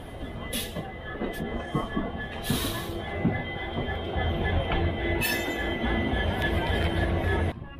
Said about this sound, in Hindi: अपनी ट्रेन है आ चुकी है गुवाहाटी स्टेशन